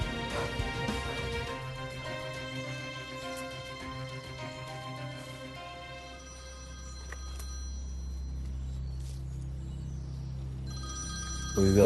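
A telephone bell rings repeatedly in a steady, insistent pattern, moderately loud and alone, with a low hum underneath and a brief clatter at the very end.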